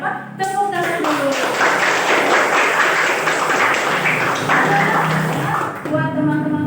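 A classroom of children claps together for classmates after a presentation, a sustained burst of applause, dense and lively, with a few voices audible as it fades.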